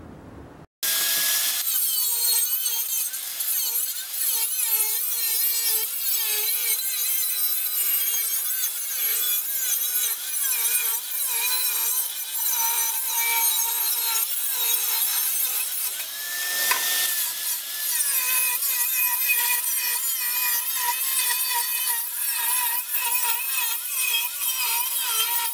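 Steel sheet cut into pieces for expansion chamber cones, a continuous loud, raspy cutting noise that runs steadily with slight shifts in pitch and a brief dip partway through, close and with no talking.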